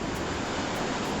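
Heavy rain pours down in thick jungle on St. Thomas in the U.S. Virgin Islands, a dense, steady hiss that fills the air evenly and closely with no breaks or voices.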